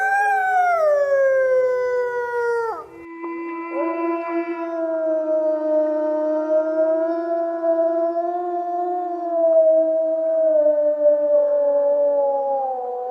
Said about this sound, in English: a wolf sounds just like you would want a wolf to sound